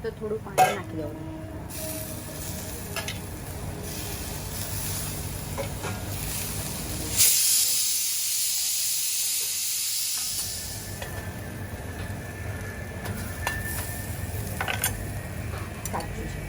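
Water poured into a pan of cooking bitter melon (karela) releases a sudden loud burst of hissing steam partway through, amid steady kitchen clatter, with a voice speaking nearby.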